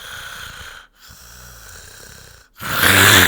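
A person imitates their dad's loud snoring with two or three rough, rasping snore sounds, breaking off into a brief silence between them, and ending on a sharp, loud burst close to the microphone.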